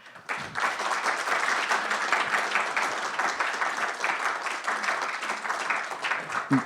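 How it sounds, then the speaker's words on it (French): A crowd at a talk on military history applauds three authors with steady, dense clapping that holds at moderate volume throughout, with no voices over it. "Je crois qu'on peut vous applaudir."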